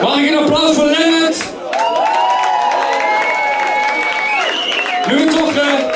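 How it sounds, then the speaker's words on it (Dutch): Audience applause for Lennart at a CD presentation, a short burst of clapping and cheering from a crowd with a voice over it and a rising tonal sound in the middle. "Mag ik een applaus voor Lennart?"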